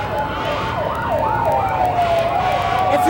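Emergency vehicle sirens wail continuously during a 1988 anniversary parade in Winchester, the rising and falling tones loud and close over steady street noise, with no talk.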